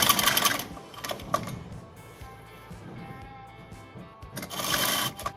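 A sewing machine runs in bursts at the start and end with a quieter stretch between, stitching a kurti cap sleeve into the armhole, close and clear.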